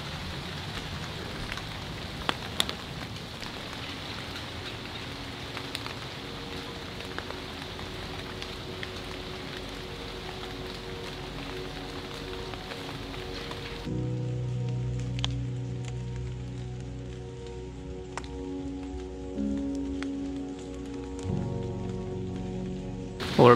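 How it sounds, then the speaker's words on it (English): Steady rain falls in the woods during an evening bowhunting sit, making a continuous patter on leaves and ground with occasional louder nearby drips. Nobody speaks. "Well, we're back at it this evening and it's still raining."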